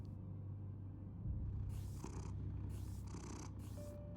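A cat purrs steadily in the Batman: The Telltale Series video game, a low continuous rumble running throughout, with brief higher game sounds layered on top partway through.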